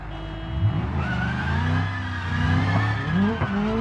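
A high-performance car in the BeamNG driving game revs hard, its engine pitch climbing and falling through several gear pulls, with brief tire squeals layered in as it accelerates close up.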